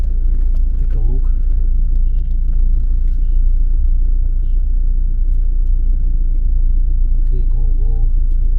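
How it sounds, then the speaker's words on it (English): Road traffic outside a Korean mart in Clark Freeport, a loud continuous low rumble of passing cars with horn-like tones near the start and end, and voices talking under the noise. "Traffic here."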